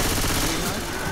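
Gunfire in Left 4 Dead 2, a dense, continuous stream of shots forming a steady loud wash throughout, with faint voice underneath.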